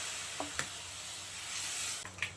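A tempering of cumin, mustard seeds, asafoetida and garlic sizzles steadily in hot oil in a pan for a dal, a continuous close hiss with a few sharp pops and scrapes of stirring, no voices.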